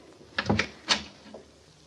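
A door opens in a radio drama scene, with two quick wooden knocks or clunks followed by a louder latch-like creak and a faint trailing thump, close and dry with no talk.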